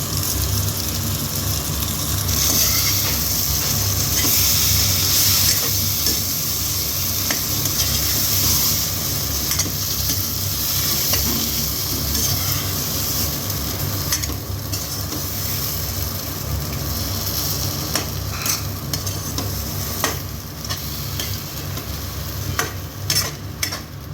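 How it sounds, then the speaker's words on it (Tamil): Bitter gourd coated in ground masala paste frying in a pan over medium flame, a steady close sizzle with scraping stir strokes running throughout, loud and unbroken with no voices. "இதை மீடியம் ஃப்ளேமில் வச்சு கொஞ்சம் நேரம் ஃப்ரை பண்ணணும்"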